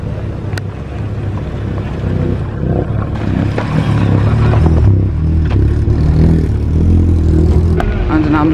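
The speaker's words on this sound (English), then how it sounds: "Oh, we got the Austin Maxi leaving now." An Austin Maxi historic rally car pulls away at a rally stage with a rising engine drone, heard at a moderate distance, while other cars, wind and a crowd add background noise.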